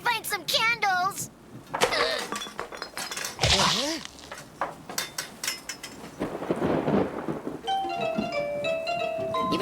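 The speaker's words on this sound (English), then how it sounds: "The crash of thunder, the howling of the wind, the gentle tapping of raindrops dancing on my paw" Cartoon thunderstorm effects, with thunder crashes, rumbling, wind and a patter of rain mixed with glassy clinks and tones, busy and loud, with voice-like passages woven through.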